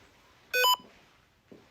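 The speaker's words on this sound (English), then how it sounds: "It will beep if it is catching anything." An SLS camera used in a paranormal investigation of a haunted house gives a short, bright electronic beep, followed by a faint second chirp a moment later in a quiet room.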